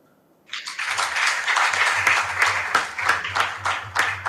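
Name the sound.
audience applause at a school event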